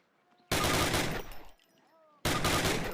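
Heavy automatic weapon fire in Call of Duty comes in two loud, sustained bursts, with a short quieter gap between them.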